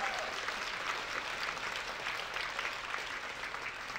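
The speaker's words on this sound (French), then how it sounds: "Ça s'applaudit" Audience applause at a live stage show with prize announcements, a steady, dense wash of clapping from a crowd filling the whole stretch without pause.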